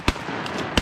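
Shotgun blasts crack out on an opening-day duck hunt in Virginia, with sharp reports at the start and end of a brief burst against a steady outdoor rumble.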